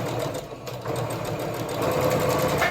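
Sewing machine running a continuous seam through fabric for a sewing-machine cover, a rapid steady mechanical whir and needle chatter up close, briefly easing before speeding up again.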